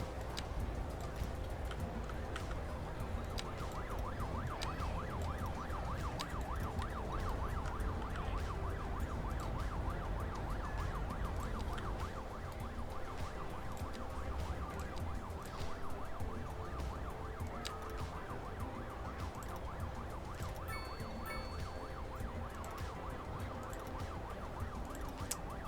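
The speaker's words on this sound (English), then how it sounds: "I can hear a police car going for absolutely ages" A police car siren in Cities: Skylines II wails continuously and faintly in the distance, sustained throughout beneath a dense, steady city traffic hum.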